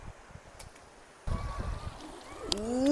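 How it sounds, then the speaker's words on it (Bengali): Water flows inside Mawsmai cave in Meghalaya, near Cherrapunji, an icy stream running through the rock. It gives a steady rushing, gurgling hiss that grows noticeably louder partway through. "জলের শব্দ শুনতে পাচ্ছ"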